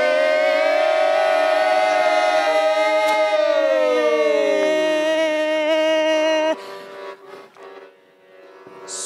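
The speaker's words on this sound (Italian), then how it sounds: "Suona la sirena dell'allarme e tutta la gente si scompiglia in silenzio" An air-raid alarm siren in a theatre production: a loud, sustained wailing tone with harmonic overtones that glides downward, cuts off abruptly partway, and leaves fainter fluttering sounds.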